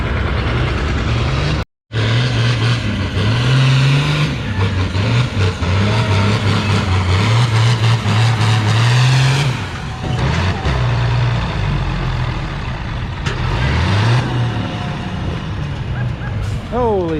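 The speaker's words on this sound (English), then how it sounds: "we got an Alice Chalmers D21 coming up next" An Allis Chalmers D21 tractor hauls a 9,000-pound sled at a spring tractor pull in Lynden, its loud, steady engine roar straining and rising throughout, with a crowd and announcer talking over it.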